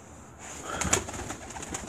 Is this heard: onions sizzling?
no